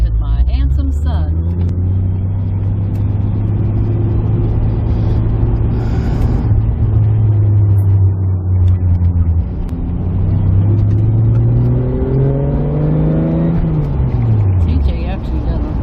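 A souped-up Toyota MKIV Supra engine drones loudly from inside the car during a ride, a steady low rumble that dips and then climbs in pitch as it revs, with voices inside the cabin.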